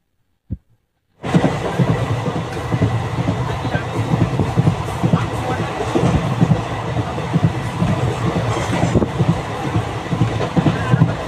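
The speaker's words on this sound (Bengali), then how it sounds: "ট্রেনটা বাদিকে বেঁকে যাচ্ছে, ওটাই কাটিঘাট যাচ্ছে।" The Kanchenjunga Express rumbles along the rails near Kumedpur Junction, a steady loud roar with rhythmic clatter of the wheels that starts abruptly after a brief knock and continues without pause.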